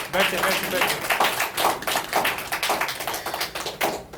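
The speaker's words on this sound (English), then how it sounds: "So give you a huge round of applause for Hema." Applause for Hema from an audience at a question-and-answer session, a dense run of hand claps lasting the whole stretch, moderately loud and fairly near, with a few louder individual claps standing out.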